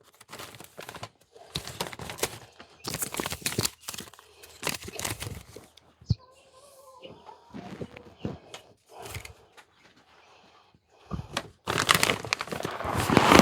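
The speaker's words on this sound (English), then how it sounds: "I'm going to use my Fisker scissors to cut this bag open." Fiskars scissors cutting open a mostly empty 25-pound bag, crisp crinkling and tearing bursts in a close, irregular series with pauses between them, ending in a louder rustle.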